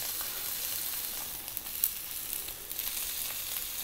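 Sirloin steak fat sears in a hot pan, a steady, fairly quiet bright sizzle with faint crackling pops throughout.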